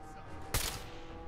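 A single sharp gunshot in Fallout 4, one brief loud crack that fades into a low game ambience.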